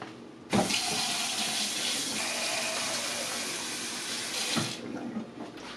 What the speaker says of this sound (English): fill a medium pot with salted water, cover, and heat to boiling on high